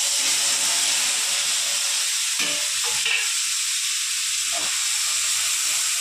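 Boiled pumpkin leaf paste dropped into hot oil left from frying dried red chillies, producing a loud, dense, continuous hiss and sizzle with a few brief stirring clinks, close up.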